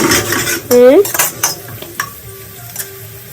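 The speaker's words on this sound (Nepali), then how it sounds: "बेसार हालेर चलाउने" Spices with turmeric are stirred in a pan, a metal spoon clattering and scraping against the pan in quick bursts over a faint sizzle, the knocks growing sparser toward the end.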